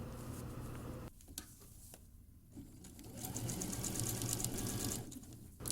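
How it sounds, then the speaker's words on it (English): A Pfaff sewing machine stitches around a metal eyelet, its rapid mechanical patter running close and steady with brief pauses and a louder, denser stretch toward the end. "So you go to the other end and you secure your stitching."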